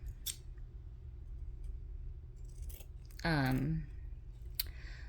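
Scissors trim a large fabric tag for a junk journal, giving a short, close snip partway through amid quiet room noise.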